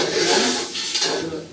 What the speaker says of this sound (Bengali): মাছ কষানোর সময় কিভাবে নাড়তে হয়